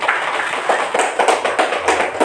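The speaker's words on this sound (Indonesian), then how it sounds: "tepuk tangan untuk kelompok 1" Classroom applause for a presenting student group: a burst of close, uneven hand claps from a modest number of people, with a steady patter lasting about two seconds.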